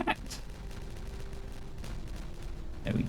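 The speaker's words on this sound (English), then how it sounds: "Lots of lovely explosions today." Explosives detonated in the colony-building game Timberborn, heard as a sharp burst at the start and another blast near the end, with a low rumble and a steady hum in between.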